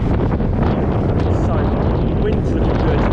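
Strong coastal wind at Peacehaven reef buffets the microphone as a constant, loud, roaring rush with no let-up.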